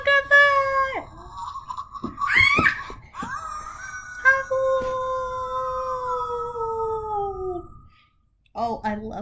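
A creature in the Grimlings video game lets out long, loud wavering howls, one after another, each sliding downward in pitch, with a short break before a final rising cry near the end.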